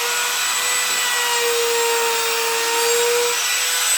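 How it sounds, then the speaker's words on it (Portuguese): A laminate trim router mills wood in a small area, producing a continuous high-pitched motor whine with a steady cutting hiss, close and loud throughout with no pauses or talking. "Ou eu volto aos pouquinhos e venho fresando, ou eu consigo puxar nesse caso"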